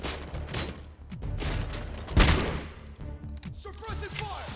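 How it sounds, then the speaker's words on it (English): Heavy gunfire in RoboCop Rogue City rattles in rapid bursts with thuds and one loud close shot near the middle. Voices talk in between. "We're under heavy fire!"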